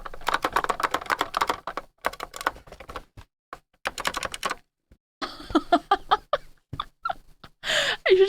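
A large, loud COVID-era computer keyboard is typed in rapid clattering bursts, close to the listener, with short pauses between runs of keystrokes.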